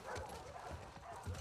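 A few dog barks and yips ring out over a busy game-like background, with some talking mixed in.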